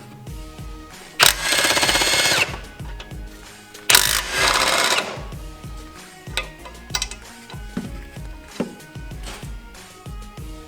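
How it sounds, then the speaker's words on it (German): A 16mm socket loosening the engine mount bolt on a BMW 325i E36 with an M50/M52 engine, two sustained ratchet bursts followed by scattered metallic clicks and clanks, close up. "das Motorlager hier mit einer 16er Nuss abschrauben"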